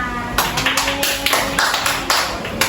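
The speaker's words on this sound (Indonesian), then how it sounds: "Kita beri tepuk tangan untuk kita semua." An eleventh-grade class claps in quick uneven bursts of short sharp slaps, close and fairly loud, with little talking.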